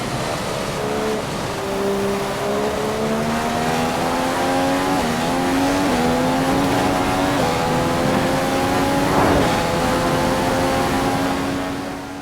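Race car lapping the Hungaroring in a racing game, a Williams car running ahead: a loud, steady engine whine climbing through the gears with brief dips at each shift, plus faint tyre squeal, with no talking.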